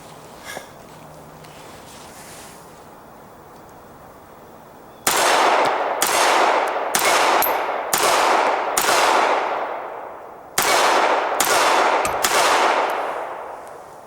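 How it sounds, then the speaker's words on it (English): Sterling M-400 pistol fired outdoors in a string of about eight sharp, loud shots, unevenly spaced and with short echoing tails, after a quiet stretch of faint background. "Now I'm going to try firing it."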